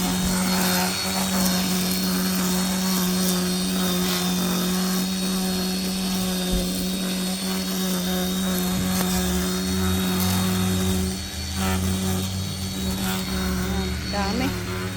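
An engine-powered grass cutter trims grass outdoors with a loud, steady motor drone that holds constant, then shifts pitch briefly near the end as the cutting load changes.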